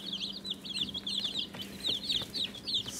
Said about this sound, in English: Staring at my baby chickens.